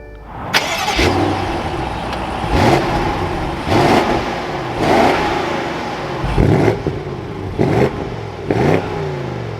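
A 2023 BMW M550i fires up and is revved repeatedly, loud and close, with several rising engine bursts over a steady idle and no one talking.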